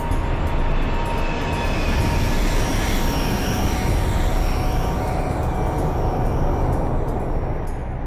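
Kazakhstan Airlines flight 1907, an airliner cruising and descending, gives a loud, steady, broadband engine roar that stays constant throughout, with no voices.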